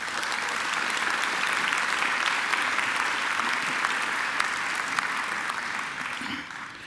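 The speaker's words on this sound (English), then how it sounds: "I think Boris deserves another great round of applause." A graduation ceremony audience at Macquarie gives Boris a sustained round of applause, a dense, even roar of many hands clapping that holds steady throughout and tapers slightly at the very end, with no voices over it.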